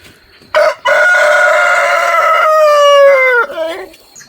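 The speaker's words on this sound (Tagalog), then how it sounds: "Sunoy oh." A single rooster crows close and loud, one long sustained, strongly harmonic call lasting about three seconds that falls slightly at the end, with no talking.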